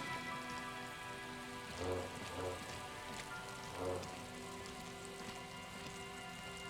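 Cold rain falls steadily in Disco Elysium, a soft continuous patter with a few louder drip-like bursts over a steady ambient hum.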